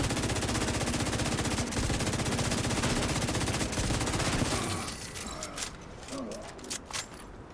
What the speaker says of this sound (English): Use up all my freaking rifle ammo on this guy.